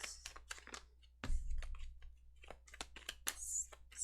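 Tarot cards being shuffled, a run of quick crisp riffling taps and flicks close up with a brief low thump, the patter continuing irregularly throughout.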